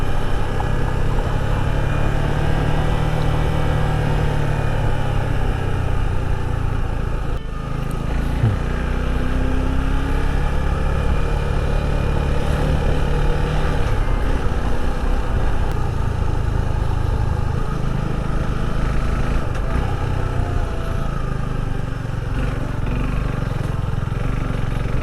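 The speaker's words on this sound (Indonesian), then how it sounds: "Nah itu suaranya bisa jelas kelidikan nih." A car engine knocking from bad oil, heard as a steady, close, rattling engine drone that runs unbroken throughout, with no talk.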